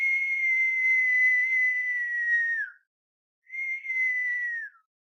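A person whistles at sound-reactive LED panels: a steady, clear, near whistle held for over two seconds that dips at the end, then after a short pause a second, shorter whistle.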